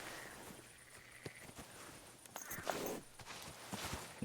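A horse's hooves clop along at a walking pace in Kingdom Come Deliverance 2, steady soft thuds over faint outdoor ambience, growing slightly louder toward the end.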